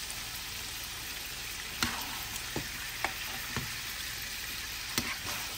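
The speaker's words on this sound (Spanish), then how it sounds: "Aquí nomás estamos sellando un poquito la carnita" Small pieces of meat sear in a pan, giving a steady close sizzle with occasional sharp pops and scrape-like clicks over the even hiss.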